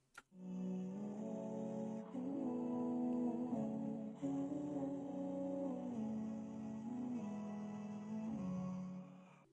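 Pitched-down chord sample for a rap beat, treated with EQ and a touch of reverb: soft sustained chords change every couple of seconds, smooth and continuous with no drums, fairly quiet and alone.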